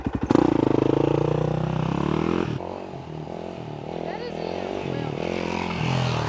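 A dirt bike engine revs loud and close, with a sharp blip at the start and then a sustained, wavering drone that rises and falls, mixed with clatter.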